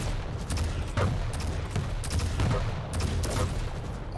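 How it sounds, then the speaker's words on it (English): Rockets and railgun shots fire rapidly in a Quake Champions duel final, a dense barrage of punchy blasts and explosions over a constant game din, loud and close throughout. "Oh no, those rockets hurt, but the railgun from Xron hurts as well"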